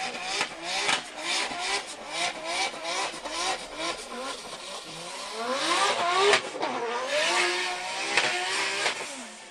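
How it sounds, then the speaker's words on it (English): A Formula Drift Pro 2 car spinning celebratory donuts on burning radial tires, its engine rising and falling in repeated revving sweeps with tire hiss, loud and continuous. "There's some celebratory donuts there for Mark Landerville"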